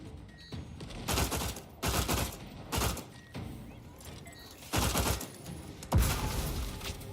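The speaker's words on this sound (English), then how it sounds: "Grenades going off everywhere." Grenades bursting over and over in the sci-fi shooter game Outer Worlds 2, six or seven heavy booming blasts roughly a second apart, loud and close, with brief quieter gaps between them.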